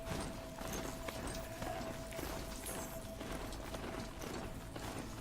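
A ridden machine mount in the Horizon Zero Dawn Frozen Wilds game clops along in steady, rhythmic footfalls, faint and continuous beneath ambient game wind and background noise.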